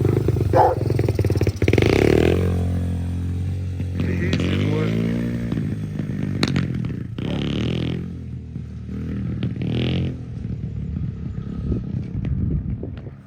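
Extreme 110 pit bike engine running nearby, a steady rumbling idle with revving swells and some clatter, heard alone for about thirteen seconds.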